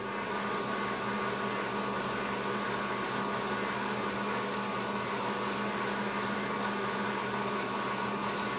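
C Series M2 direct-to-garment printer printing on a dark tee-shirt, a steady, even mechanical hum and whir running without pause throughout.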